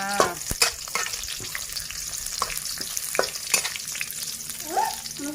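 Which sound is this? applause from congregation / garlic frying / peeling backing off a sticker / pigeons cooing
garlic frying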